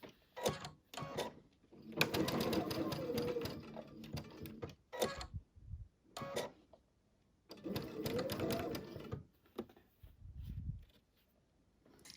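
A sewing machine runs a quarter-inch seam through butterfly quilt pieces in several close, loud bursts of rapid stitching, with pauses and handling noises between runs.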